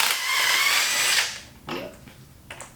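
A cordless battery impact tool whirs for about a second on 17 mm motor mount bolts on a Miata engine, then cuts out, followed by a couple of short, quieter bursts.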